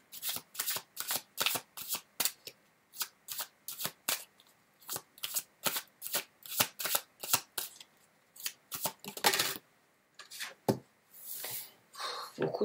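Tarot cards shuffled for a reading, a close, crisp series of rapid riffling bursts in a steady rhythm with brief pauses between, and no talking.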